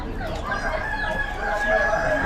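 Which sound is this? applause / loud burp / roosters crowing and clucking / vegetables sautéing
roosters crowing and clucking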